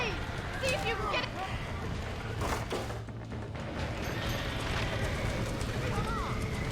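Hooves clip-clop steadily in the video game Red Dead Redemption, mixed with other game noise and rumble. Talking runs over the hoofbeats for much of the time.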